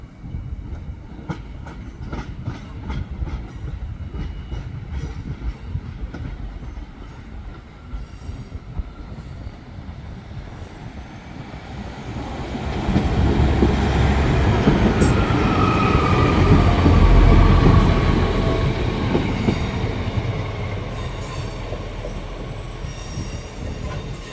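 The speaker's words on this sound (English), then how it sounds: "there's actually a train behind it as well" A Transport for Wales train rumbles past steadily near Crewe, wheels clattering on the rails, growing louder midway with a faint squeal before easing off.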